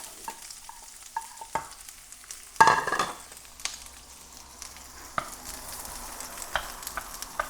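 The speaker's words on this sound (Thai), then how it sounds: "ตอนนี้เราก็เอา หอหอมลงไปผัดก่อนนะครับ" Shallots stir-frying in hot beef fat, a steady soft sizzle with scraping stirs and a louder burst of hissing as food hits the pan.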